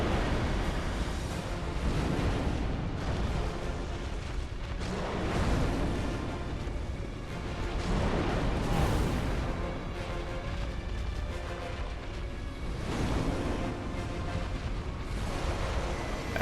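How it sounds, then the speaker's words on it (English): Rumbling explosive blasts in the dark fantasy game Bloodborne, loud and continuous with surging booms and crackling debris under a dense roar, no voices. "That's the explosion."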